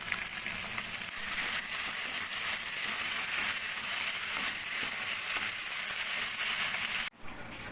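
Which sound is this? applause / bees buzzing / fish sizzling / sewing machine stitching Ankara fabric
fish sizzling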